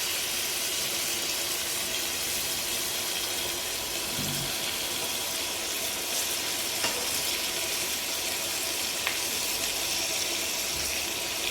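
Kerala-style prawns frying in a pan, a steady dense sizzle with faint scrapes of stirring throughout, close and continuous with no talking.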